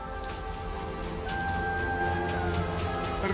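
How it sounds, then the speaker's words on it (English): Steady rainfall makes a dense, even hiss over a low rumble, constant throughout with soft drop-like patter, while a thin sustained tone hums faintly beneath; nobody speaks. "The silence of drought was broken by the sound of rain."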